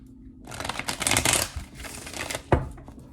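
Tarot cards are shuffled by hand at close range: a soft riffle of rapid papery flutters swells and fades, ending in a sharp tap as the deck is squared, with no talking.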